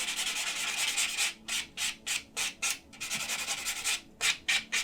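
Close, steady rasping of a sanding block buffing an acrylic nail, first one long continuous stroke, then a run of short rhythmic back-and-forth passes with brief gaps, with no talk.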